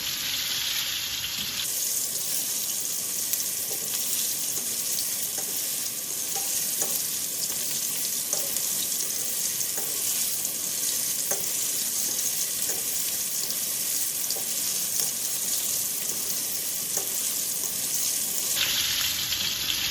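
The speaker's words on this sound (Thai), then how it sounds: "เราไม่ได้พลิกนะคะ เราแค่คนให้เขา ทั่วๆค่ะ โดนน้ำมันทั่วๆค่ะ" Loud, steady sizzling of sea bass frying in hot oil in a pan continues throughout, with occasional soft scraping as it is stirred.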